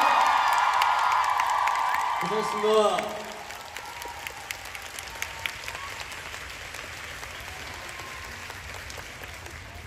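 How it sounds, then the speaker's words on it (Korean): A concert audience applauds and cheers loudly for the first few seconds, then the clapping fades to scattered claps under a short spoken line. "박수 힘차게 한번 부탁드리겠습니다."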